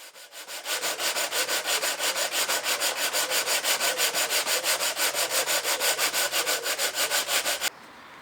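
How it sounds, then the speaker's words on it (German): Hand sanding plywood kayak planks with 80-grit sandpaper in a garden, rapid steady back-and-forth rasping strokes, close and even in rhythm, alone with no talk, ending abruptly. "Da ist jetzt ein 80er Schmirgelpapier drauf."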